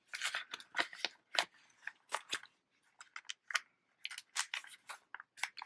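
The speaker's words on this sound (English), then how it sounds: "It's getting stuck on my zipper." Wallet zipper snagging and catching in a series of short, close rasping bursts with brief pauses between, sharp and crisp, no talking over it.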